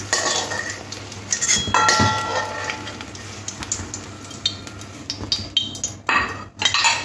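Fried eggplant pieces are lifted out of a pan of hot oil, with soft sizzling under scattered clinks and scrapes of a utensil against the pan, close and irregular.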